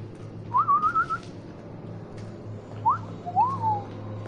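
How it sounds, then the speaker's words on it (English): A person whistles short melodic phrases during a Resident Evil 7 gameplay session: one rising, trilling run early, then a second pair of gliding notes a couple of seconds later, fairly close over a steady low background hum. "Stop whistling, please!"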